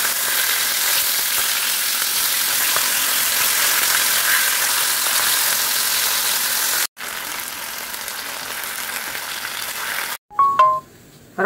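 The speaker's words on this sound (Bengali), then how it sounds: "এই যে পমফ্রেট মাছ ভাজা হয়ে গেল" Pomfret fish frying in a pan, a loud, steady hiss and sizzle of hot oil that runs on for several seconds, cuts out briefly, then returns before clattering handling noises at the end.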